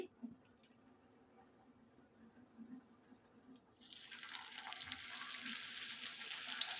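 Okra pieces dropped into hot oil already frying garlic and dried red chilies; after a few quiet seconds a loud, crackling sizzle bursts up and keeps bubbling steadily, close by.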